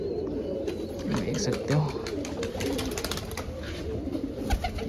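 Pigeons coo softly in a home loft, among young birds kept with the flock, a low steady murmur beneath someone talking nearby throughout.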